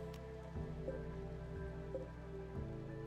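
Rain in the video game RimWorld falls as a quiet, steady pattering hiss over a low background hum, faint and even throughout.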